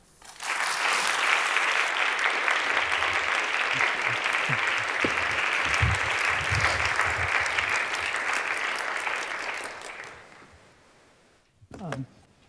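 Audience applause welcoming a lecturer to the podium at a Radcliffe talk, a dense, steady wash of clapping for about ten seconds that fades out, followed by a brief voice near the end.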